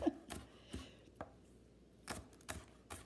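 A knife chops celery on a chopping block in a series of irregular, crisp, close thuds, quiet overall with brief pauses between strokes.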